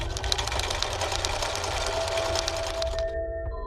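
A sewing machine stitches in a steady, fast mechanical whir for about three seconds and then stops. The sound is close and loud, with no speech.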